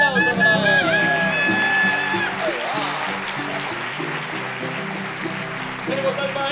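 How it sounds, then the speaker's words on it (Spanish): Applause from an audience at the 2014 TAL awards ceremony in a theatre, a dense wash of clapping that begins over music and a voice, then carries on steadily at moderate volume for several seconds. "un gran aplauso para él"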